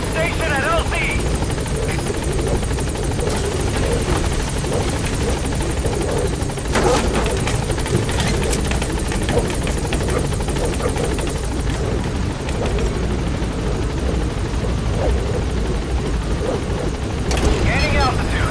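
A helicopter in Metal Gear Solid V takes off with a loud, steady rotor roar and engine whine that fills the whole stretch, holding strong and close throughout.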